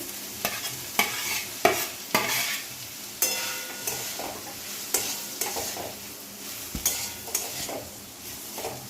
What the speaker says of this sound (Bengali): এই যে ভুজিয়া আর সসেস দিয়ে দিচ্ছি